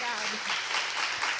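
Studio audience applause on a Brazilian TV talk show, a steady dense clapping wash filling the moment with a voice faintly underneath.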